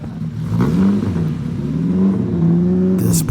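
A vintage Carrera Panamericana race car at an exotic and vintage car show revs its engine loudly and up close, a deep throaty roar that climbs and falls in pitch over a few seconds.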